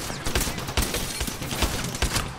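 Rapid bursts of video game gunfire crackle in a dense, loud barrage, shots landing in quick clusters with short gaps, close and sustained through the whole stretch, with no voices over it.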